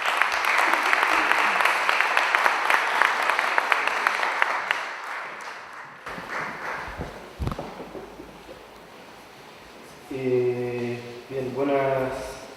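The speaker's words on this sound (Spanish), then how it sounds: "Un aplauso para ellos, por favor." An audience at an education panel gives a round of applause for the presenters, steady dense clapping for several seconds that stops abruptly, followed by faint handling noise and a voice.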